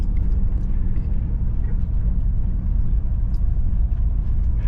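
A Jeep WJ rolls around a neighborhood block, its engine and road noise forming a loud, steady low rumble close by with little variation throughout.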